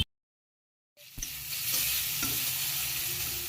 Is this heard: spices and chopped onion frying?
yes